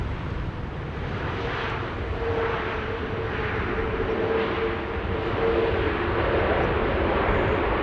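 Airplane on approach to runway 27 at Amsterdam Schiphol Airport on a windy day, a steady distant engine roar with a faint rising tone, blended with gusty wind noise throughout.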